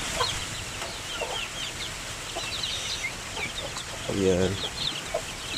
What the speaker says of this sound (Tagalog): ito yung ating mga shamo